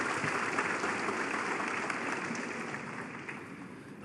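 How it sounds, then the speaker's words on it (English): Snooker crowd at the 2024 Shanghai Masters, Ronnie O'Sullivan versus Judd Trump, applauds a frame ball with sustained, even clapping that gradually eases off. "Applause for frame ball."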